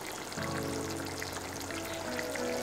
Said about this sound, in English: I'm gonna pour a little bit for her on a plate